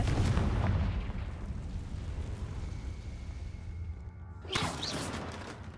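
Confringo spell explosions in the Hogwarts Legacy video game: a heavy boom opens, rumbles and fades, then a second sharp blast bursts near the end.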